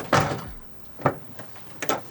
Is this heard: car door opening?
yes